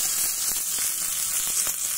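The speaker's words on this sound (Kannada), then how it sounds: "ಈಗ ಎಣ್ಣೆ ಕಾಯ್ದಿದೆ, ಸಾಸಿವೆ ಜೀರಿಗೆನ ಕಾಲು ಕಾಲು ಕಣ್ಸಿ ಹಾಕ್ಕೊಬಿಡೋಣ." Mustard seeds and cumin sizzle hard in hot oil for a tempering, a dense steady crackling hiss with small pops running continuously and loud, no voices.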